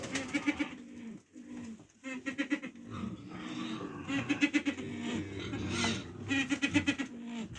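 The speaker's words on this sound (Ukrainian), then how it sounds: "Вон голуби вже майже всі позліталися." Pigeons coo in repeated soft, throaty bursts, several birds close by, with rustling and shuffling between the calls.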